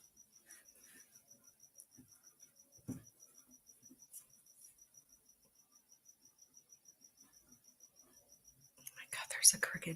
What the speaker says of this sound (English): there's a cricket in here.